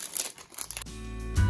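A plastic bag crinkles and rustles close by for about a second, followed by a steady low hum.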